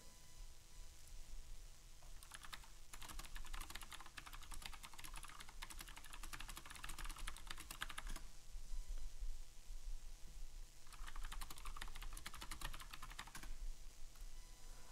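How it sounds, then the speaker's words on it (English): Rapid clicking of typing on a computer keyboard, in two sustained bursts with a short pause between, close and fairly quiet over a steady low background hum. "sorry, I'm typing."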